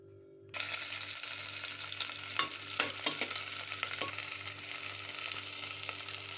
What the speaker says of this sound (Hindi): इसमें अभी मुझे सारी वेजिटेबल हल्का सा सोटे करना है।